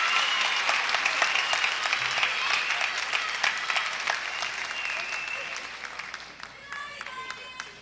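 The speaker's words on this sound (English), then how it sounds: "let's have a nice round of applause for all our visiting queens" Applause from a seated audience at a 1985 college beauty pageant evening, a steady dense clapping that carries on throughout and thins slightly toward the end.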